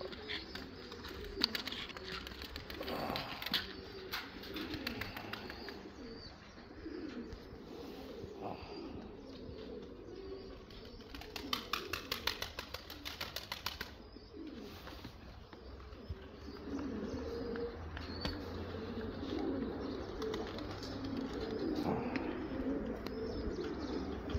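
Turkish pigeons cooing in repeated soft, throaty phrases over a constant background hum, with occasional chirps and wing sounds, and no voices.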